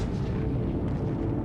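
A 1.5-megaton nuclear warhead detonated 400 kilometres above the Pacific Ocean in a 1962 high-altitude test, heard as a loud, continuous deep rumbling roar that fills the whole stretch without letting up.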